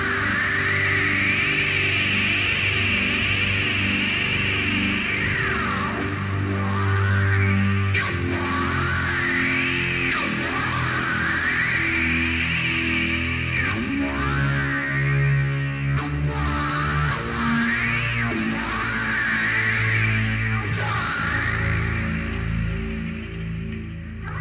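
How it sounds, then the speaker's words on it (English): A keyboard drone drenched in reverb and delay swells in slow, repeating sweeps, a thick, distorted sustained tone with echoing tails that rises and falls for the full stretch and is heard alone. "you can emulate those drone effects like this."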